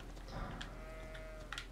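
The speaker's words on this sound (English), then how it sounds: "What are you, goats?" Goats bleat faintly in Elden Ring, a couple of short low animal calls over a quiet ambient game background.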